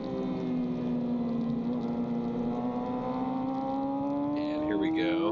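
A Kawasaki ZX6 racing motorcycle at full throttle on a road race track, its engine whine steady and close, then rising in pitch near the end as other bikes snarl past.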